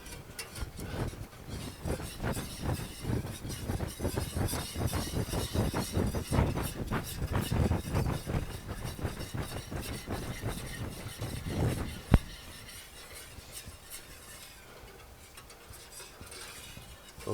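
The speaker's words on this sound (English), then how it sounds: "I'm going to add the milk slowly, a little bit at a time, and stir this up" A spoon or whisk stirring milk into a roux in a pot, steady rhythmic scraping and soft clinks for about twelve seconds, then a sharp knock and quieter intermittent stirring.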